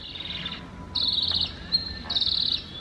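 Golden lion tamarins call from the trees near an apiary, giving long high-pitched trilling whistles in three bursts separated by short pauses, fairly loud and steady with no voices.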